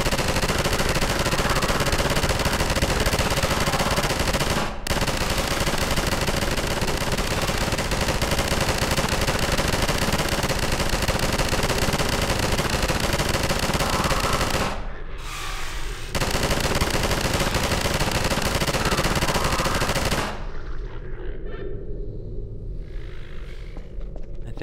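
Dense, continuous bursts of rapid video game gunfire in Half-Life 2 fill the scene, broken by a couple of brief pauses before the shooting thins out at the end.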